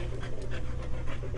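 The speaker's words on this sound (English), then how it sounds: "Doggy came running downstairs." A dog pants rapidly and close by after running downstairs, with quick rhythmic breaths repeating over about a second and a half against a low steady background hum.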